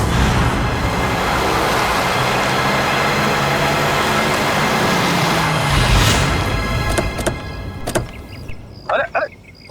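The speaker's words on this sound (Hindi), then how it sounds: "इतना फास्ट गाड़ी चलाता है" A car driven fast, a steady loud rushing engine and road roar that fades toward the end, with brief voices and clatter as it slows.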